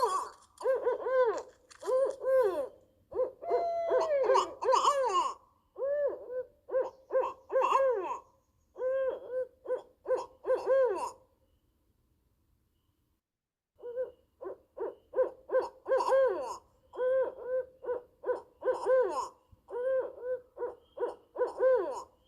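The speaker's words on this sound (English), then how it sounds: "the barred owl says, who cooks for you? Who cooks for you all?" A pair of barred owls trade loud, clear hooting calls in rhythmic bursts, their phrases overlapping and alternating, with a quiet gap midway before the duet resumes.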